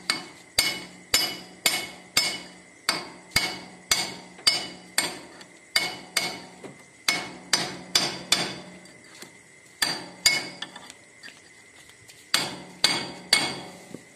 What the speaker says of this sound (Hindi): ये देखिए, ठोक के मैं इसे बैठा दिया हूँ।